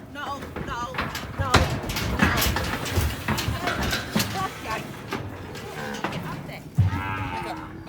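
Cows moo loudly and repeatedly while being loaded through a cattle crush on a mountain mustering job, the bellows close and overlapping, with hooves and metal clanks, and a person talking in between.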